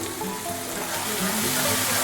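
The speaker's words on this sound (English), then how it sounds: "Put the lid on and let it simmer another 2-3 minutes" A creamy mushroom sauce with Italian herbs simmers in a covered pan, giving a steady soft bubbling sizzle with faint low hum beneath.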